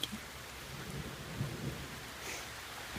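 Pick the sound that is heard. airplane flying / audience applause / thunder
thunder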